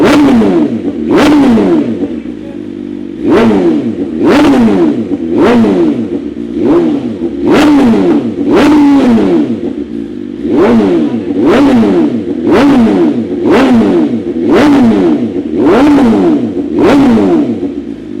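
A brand-new BMW motorcycle fitted with a short Akrapovic exhaust is revved again and again, with about a dozen sharp, loud throttle blips in a steady rhythm, each rising quickly and then falling back to a rumbling idle.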